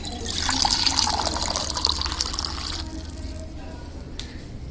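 Water pours into a drinking glass or vessel at home in hot weather, a bright splashing stream for a few seconds that then stops, leaving quiet room tone and a faint click.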